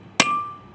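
A single sharp hammer blow on metal while driving a front wheel bearing seat into place, close and loud, followed by a brief clear metallic ring that fades.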